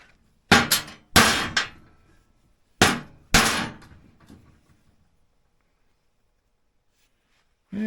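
Several sharp hammer blows ring out in a loose cluster on a vintage Polaris XLT 600 snowmobile skid, two quick strikes then two more, followed by silence and one final knock.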